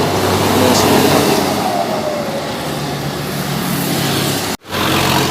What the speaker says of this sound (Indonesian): ini bus dari Jambi menuju ke Medan